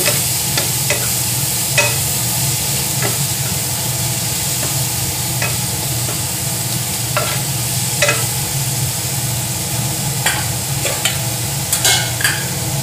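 Fried onions with tomato paste sizzle steadily in a pan for mutton kasha while a spoon stirs and scrapes, with scattered clicks and taps over the constant frying hiss.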